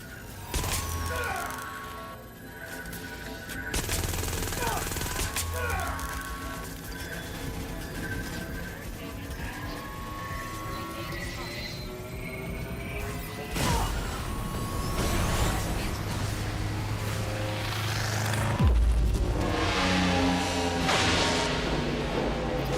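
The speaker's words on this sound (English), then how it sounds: "Look at those explosions. What a beautiful sight." A dense, loud wash of explosions and whooshing blasts in Watch Dogs Legion, with bright bursts and rumbling booms layered continuously, swelling louder near the end.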